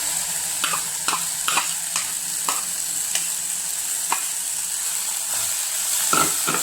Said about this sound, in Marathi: आता हे कांदा आणि हे भाजून होऊ दे. आता जिरे टाकूया.